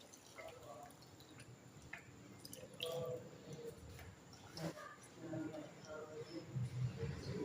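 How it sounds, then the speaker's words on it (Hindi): Water is poured into flour for kneading dough, in short, splashy trickles and drips while a person talks quietly nearby. "अब ये पानी मैंने डाल दिया।"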